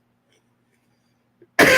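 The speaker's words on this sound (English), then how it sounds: "I told you I got a little dry cough today" A single short dry cough bursts out loudly near the end after near silence, close to the microphone.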